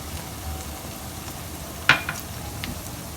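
Onions fry in a pan with a quiet, steady sizzle, broken by a brief sharp clink of a utensil and a couple of faint taps.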